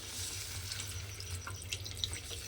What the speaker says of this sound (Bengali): এর মধ্যে আমি জল দিয়ে দিলাম